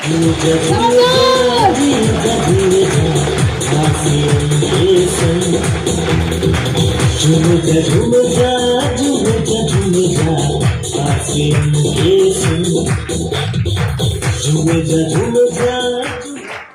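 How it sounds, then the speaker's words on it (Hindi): An audience at an RCM business seminar in Faridabad claps for a sustained stretch, with dense, continuous, loud clapping mixed with crowd noise and a voice. "चलिए एक बार अपने लिए और अच्छा से ताली बजाइए"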